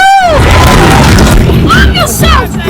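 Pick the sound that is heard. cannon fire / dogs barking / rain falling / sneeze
cannon fire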